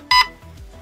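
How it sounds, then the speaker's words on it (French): A single short, bright electronic beep from a GATE Aster V2 unit sounds close by, followed by faint low background hum. "Voilà, un bip, je suis donc ici dans le premier mode."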